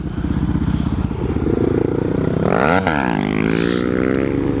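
SM610 motorcycle engine in first gear during slow wheelie practice, revving loudly and steadily, with a sharp rise and fall in pitch midway before settling into a strong, sustained drone close by.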